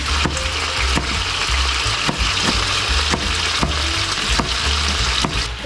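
Chicken pieces frying in a pan, a loud continuous sizzle with regular sharp clanks or scrapes roughly every half second as the pieces are turned, no talk.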